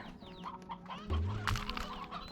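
Chickens cluck in the video game Slime Rancher 2, a few short calls over a steady ambient game background, with one louder low burst partway through.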